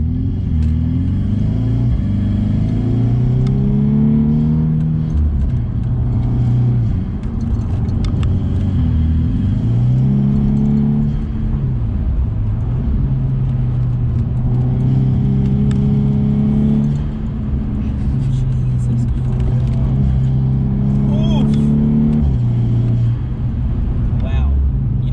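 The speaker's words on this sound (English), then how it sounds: "That induction noise." A Volkswagen Scirocco R's engine breathes with a steady induction rumble while on the move, rising and falling in pitch as the throttle changes through gears. People talk over the continuous mid-pitched drone.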